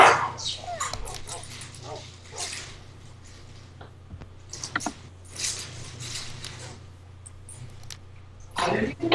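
Dogs in a survival video game bark and yip repeatedly near a fire, with bursts of barking spread through the scene alongside game sounds and some talk.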